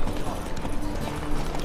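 A horse gallops along a city road in the video game The Witcher 3, its hoofbeats a continuous, fairly loud clatter under low background ambience.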